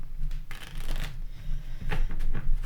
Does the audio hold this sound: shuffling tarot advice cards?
yes